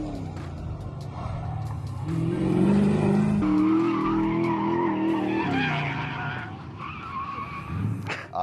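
Muscle car tires locking up and skidding under heavy braking on a road course, a loud, sustained squeal with engine rumble that holds steady for several seconds before easing off near the end.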